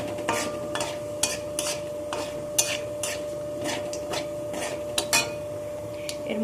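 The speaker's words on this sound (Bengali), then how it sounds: "ফোড়নটাকে এখানে ভালো করে একটু ভেজে নেব।" Dry red chilli and whole cumin tempering in hot oil, a low crackling sizzle broken by sharp clicks and scrapes of a spatula against the pan, close, with a faint steady hum behind.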